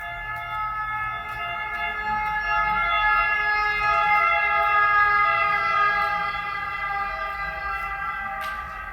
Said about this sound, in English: The sirens are a sign.